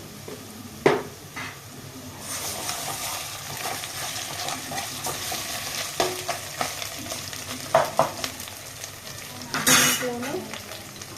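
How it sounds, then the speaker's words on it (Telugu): Fried onions with ginger garlic paste sizzle steadily in a pan for Telangana-style bagara rice, with sharp scraping stir strokes and a louder burst near the end; a voice speaks briefly. "ఆనియన్స్ ఫ్రై అయ్యాక కొంచెం అల్లం వెల్లుల్లి పేస్ట్"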